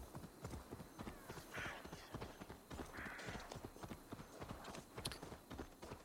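Hoofbeats of a ridden horse in Assassin's Creed Valhalla, a steady galloping clip-clop rhythm, soft and fairly distant, with a faint whinny-like sound now and then.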